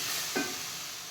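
Chopped tomatoes fry in a pan for a Tamil-style egg tomato rice, giving a soft, steady sizzle with a brief scrape of stirring partway through.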